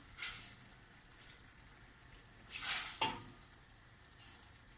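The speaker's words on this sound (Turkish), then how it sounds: "yemeğim de burada kavruluyor" Onion and canned homemade tomato paste sautéing in a pan in a highland village home kitchen, soft sizzling under occasional stirring scrapes, with a few brighter bursts of spatter.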